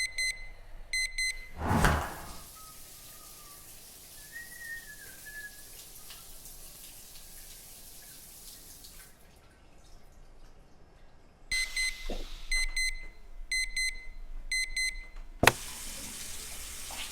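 An alarm clock beeps in quick repeated bursts, goes quiet for several seconds, then sounds another run of rapid beeps before a sharp click; no one speaks.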